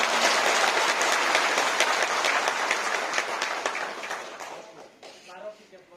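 Audience applause fills an indoor hall at a foundation day celebration, dense steady clapping from a crowd that gradually thins and fades out over several seconds.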